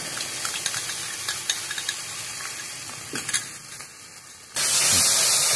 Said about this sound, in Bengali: কাজু বাদাম আর পোস্ত একসাথে পেস্ট করে রাখা এটা দিয়ে দেবো